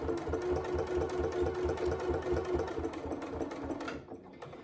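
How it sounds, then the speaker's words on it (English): A sewing machine runs with a fast, even chatter of stitches around a fabric rectangle for a saddle bag, close and steady before slowing and stopping near the end. "lengthen my stitch before sewing all the way around the rectangle"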